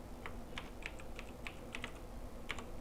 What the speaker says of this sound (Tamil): ஸோ நம்ம இப்போ ப்ரோக்ராம் வந்து டைப் பண்ணலாம்.